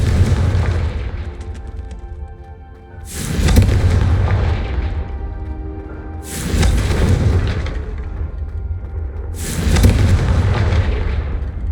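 Confringo blasting-spell explosions in the video game Hogwarts Legacy: three heavy booms about three seconds apart, each fading into a rumbling tail over steady low background noise.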